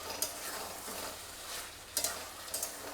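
Chicken being sautéed and stirred in a pan for a Bengali-style masala chicken, a steady soft sizzle with a few sharp scraping stirs standing out near the end, close and moderately quiet with no talking.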